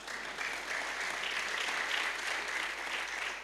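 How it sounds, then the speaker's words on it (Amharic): A church congregation applauds in steady, dense clapping that carries on throughout at moderate volume, with no voices standing out. "በዚህና በዚህ መስመር ያላችሁ ለነሱ አጨብጭቡላቸው።"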